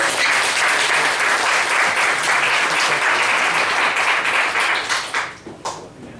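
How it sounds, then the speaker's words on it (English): A pitch event audience applauds a presenter with loud, full clapping that stays steady and close, then thins out and fades over the final second or so. "Jeremy, please, round of applause."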